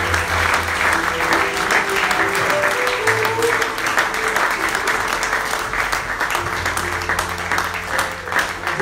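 A church congregation applauds steadily and cheers to welcome a preacher, dense sustained clapping with voices and shouts mixed in throughout.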